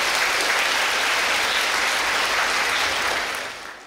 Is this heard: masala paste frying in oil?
no